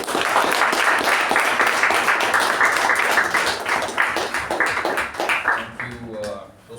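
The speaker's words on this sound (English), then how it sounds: "Give me a round of applause" A club meeting audience applauds, a dense, loud patter of clapping that fades out over the last second.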